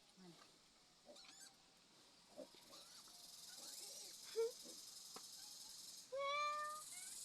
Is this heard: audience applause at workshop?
no